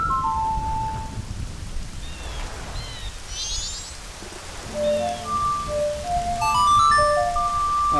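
A thunderstorm plays in Zelda: Majora's Mask. Steady rain hiss and low rumbling thunder run throughout, while a melodic ocarina-like tune of sustained notes plays over the top near the start and end.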